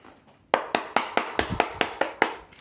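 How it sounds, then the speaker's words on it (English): A quick run of about nine crisp, evenly spaced slaps of tarot cards being shuffled, close and fairly loud after a brief quiet start. "let's turn down the volume for the shuffle"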